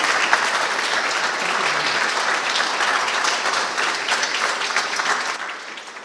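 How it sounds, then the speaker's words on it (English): Thick, sustained applause from an audience at an animation talk, a steady wash of many hands clapping that tapers off toward the end. "I think we should have another round of applause to Walt."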